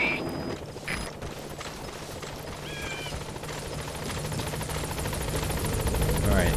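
Helicopter arriving at a landing zone in Metal Gear Solid V, a steady rotor thrum that grows gradually louder with a mechanical chop, while a voice speaks over it.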